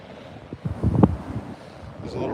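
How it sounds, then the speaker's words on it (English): Bay water surges and splashes against the steps at the SF Marina at night, a burst of sloshing impact near the middle over steady wind rumble on the microphone. "Here comes some splashes."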